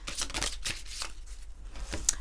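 Tarot resource cards being shuffled by hand, a run of soft papery riffles and flicks, close and fairly quiet, ending with a sharper snap.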